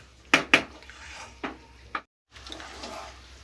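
A lid clatters onto a pan of cooking chicken keema: two quick sharp metallic knocks, then two softer taps, a brief silence, and a low muffled simmer afterward.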